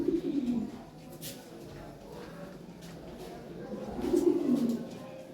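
Lahori pigeons in breeding mood give low, throaty coos, with a clear bout at the start and another near the end over a steady murmur of background noise.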